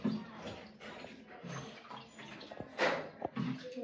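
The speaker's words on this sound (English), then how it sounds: "So let me wash my hand." Water runs from a tap while hands are washed in a home kitchen before baking, a soft close splashing and gurgling that changes with the hand movements, with no talk.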